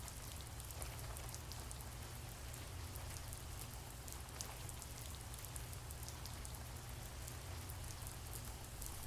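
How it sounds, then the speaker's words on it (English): Rain falls steadily in the video game The First Tree, a soft, even patter of drops that continues unbroken throughout, quiet and alone with no talking. "The sounds of rain are calming though."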